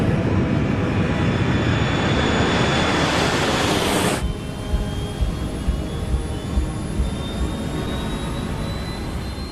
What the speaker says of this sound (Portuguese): Aceleramos até a velocidade de decolagem.